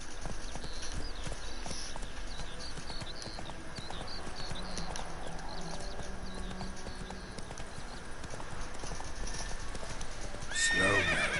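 Horse hooves clip-clop in a steady gallop through The Witcher 3: Wild Hunt, with a whinny near the end, heard over continuous game ambience.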